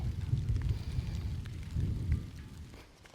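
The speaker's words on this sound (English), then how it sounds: "Yeah, thunder booming all around." Thunder booms and rumbles through steady rain during a storm at a pond where trees were being trimmed. Two deep rolls swell and fade under a constant wash of falling rain, with no voices.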